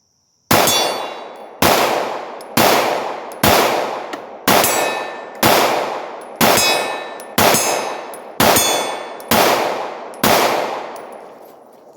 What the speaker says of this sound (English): let's take a few shots here